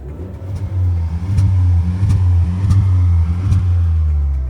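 A Tata Harrier petrol engine revs while parked with the AC off, giving a close, steady low rumble that rises in several smooth throttle blips, with no one talking.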